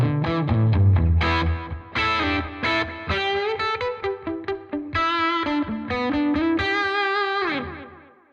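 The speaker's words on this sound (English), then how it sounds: "here we have that incredible transistor tape algorithm, one of my favorites on the Helix" Electric guitar notes run through a Line 6 HX One pedal set to a transistor tape delay, each plucked phrase trailed by warm, repeating echoes that blur into a sustained, slightly distorted wash before fading out.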